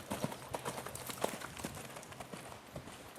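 A horse cantering or loping in an arena, with soft rhythmic hoofbeats in repeating three-beat groups, moderately distant and steady, with faint background noise.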